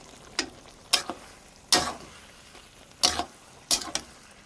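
Jackfruit and potato curry being stirred after fried spice mix is added, giving five separate scraping, clattering strokes of a spoon against the pot, each brief and fairly close, with quiet gaps between and no talking.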